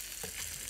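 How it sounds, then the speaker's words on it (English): Ginger slices sautéing in a hot pan for pan-fried fish, giving a steady, close hiss of frying that fills the short moment without any talk. "So you can see that it's sizzling."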